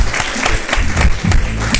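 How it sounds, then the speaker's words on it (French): Short burst of applause from an audience at a live French-language broadcast event, dense clapping that is near and loud, filling the whole moment. "On l'applaudit encore une fois de plus."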